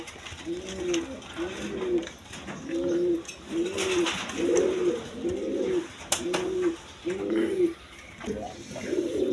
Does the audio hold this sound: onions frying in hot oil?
no